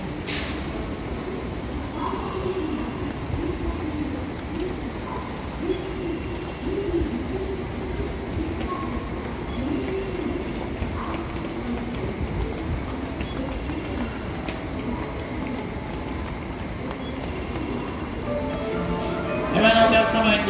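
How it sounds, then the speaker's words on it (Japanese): An Osaka Loop Line train pulls into a crowded rush-hour platform at Osaka Station, a steady low rumble and rolling noise with faint chimes, under public-address voices. "2番乗り場に到着の電車。"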